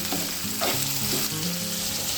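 Onions and green chillies tossed into a hot pan of oil for a drumstick curry, sizzling steadily while a spoon stirs them, the frying hiss loud and continuous with no talking.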